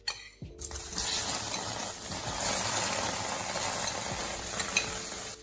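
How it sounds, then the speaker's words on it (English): Tomatoes dropped into a heated pan start sizzling and spitting steadily, a close, bright frying hiss that begins with a brief clatter and continues alone. "So I've heated up my pan and in go the tomatoes."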